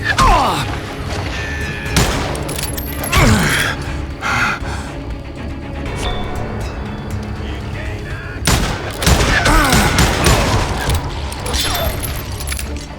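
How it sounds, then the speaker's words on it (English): Gunfire in the Western shooter Call of Juarez: Gunslinger comes as loud, sharp single shots and clusters of shots. Gun mechanisms click between them, with a gasp and a busy background of action. "Watch where you're shooting."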